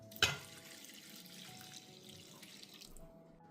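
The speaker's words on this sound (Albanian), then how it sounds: "Vazhdojmë që të shtojmë ujin." Cold water is poured from a glass into a pot of rice during home cooking, a brief splash at the start followed by a soft, steady trickle and light background noise.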